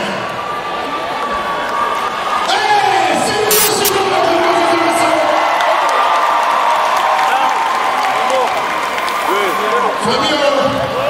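A large crowd at a Cameroonian music event cheers and applauds loudly and steadily for a singer, with whoops and shouts rising above the roar and voices mixed into the din throughout.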